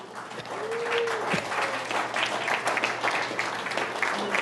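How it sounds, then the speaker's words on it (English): An audience at an indoor honor ceremony applauds, a sustained wash of many hands clapping at even loudness, with a few faint voices mixed in beneath it. "you can clap for her"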